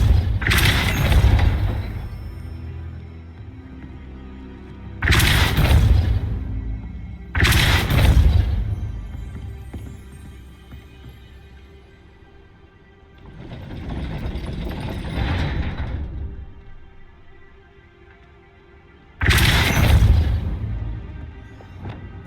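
Spell impacts and a grinding gate mechanism in Hogwarts Legacy: four loud booming blasts with heavy clunks, then a longer rumbling ratchet-like churn of machinery, with quiet ambience between them.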